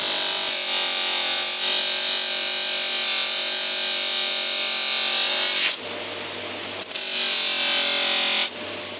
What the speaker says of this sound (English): Now I'm going to try to polish the camshaft.